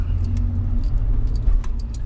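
A 2018 Toyota Kluger driving on a town street, heard from inside as a steady low engine and road rumble with faint rattles over it.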